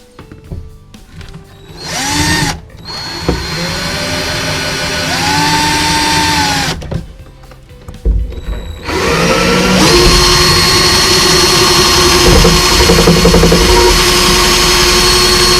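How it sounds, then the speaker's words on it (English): A power drill drives a screw through a dowel into the wood of a dresser, in several whirring bursts that rise in pitch, then one long steady loud run near the end. "I'm gonna put a screw in there through the dowel and then through the wood as well"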